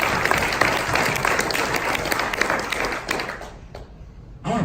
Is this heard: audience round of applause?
yes